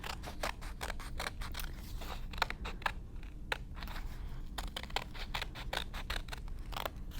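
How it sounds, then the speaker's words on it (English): Scissors snip steadily through paper, cutting out a cat shape in a rapid series of crisp, close cuts with brief pauses as the paper is turned. "when I'm cutting, I'm always cutting away from me. I'm not turning my scissors, I'm turning the paper."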